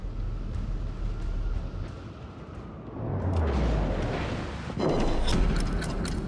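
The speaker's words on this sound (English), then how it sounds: "fire on the enemy warship." Heavy naval gunfire from a Montana battleship in World of Warships firing on an enemy ship: low booming blasts with rumbling decay, a louder salvo midway and another near the end, over continuous engine and sea rumble.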